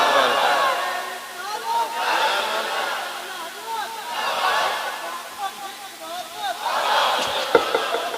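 A crowd at a religious speech gathering raises the takbir chant, swelling voices in rhythmic waves that repeat about four times, loud and reverberant across the hall.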